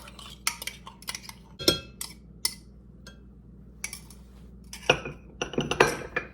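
Mashed bananas are mixed into banana bread batter in a bowl, heard as close, sporadic clinks and taps of a utensil against the dish with quiet pauses between, no talking.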